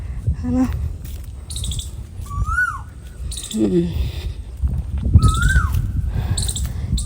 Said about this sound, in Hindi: और आप ये प्यारी सी आवाज़ भी सुन पा रहे होंगे पक्षियों की